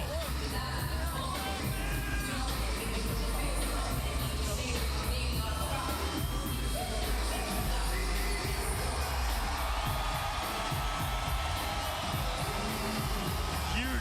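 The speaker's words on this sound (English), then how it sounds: "Roar from the crowd here in Arizona for the hometown boy and champion, Ben "Smooth" Henderson." An arena crowd in Arizona roars for a hometown champion at a mixed martial arts bout, a loud continuous wall of cheering and yelling that holds for the whole stretch, with a commentator's voice faintly beneath.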